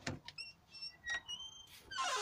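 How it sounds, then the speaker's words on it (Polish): A door opening in a house, with a faint creak and squeaky high sliding tones, a couple of soft thumps, and a brief whoosh at the end, quiet and near with no voices. "Otwieramy drzwi."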